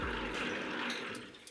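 Water pours steadily during home film developing, a close, rushing splash that gradually tapers and thins toward the end.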